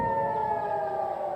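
A steady, loud air raid warning siren sounds over Tel Aviv as rockets fly in from Gaza. The tone holds level throughout with faint background rumble beneath it, and nobody speaks.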